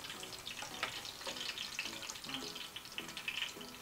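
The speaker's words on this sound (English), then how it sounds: "make sure you just get all that oil out like this. It's even still dripping out as I'm shaking" Hot frying oil draining from fried vegan spring rolls as they are shaken: a faint, crackly patter of drips with soft rhythmic rattling bursts from the shaking, with no voices.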